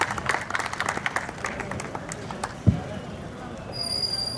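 Audience applause at a Punjab Gramin Bank Independence Day event: a dense, continuous patter of many hands clapping, moderately loud, with a sharp thump partway through and a voice faintly heard over it.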